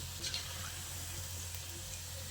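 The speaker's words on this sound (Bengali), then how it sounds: "ঠিক এই রকম একটু কালার ধরিয়ে কাবাবগুলোকে ভেজে নিতে হবে।" Soybean kebabs fry in a pan with a steady, close sizzling hiss over a low hum, constant and even from start to finish, with no voices.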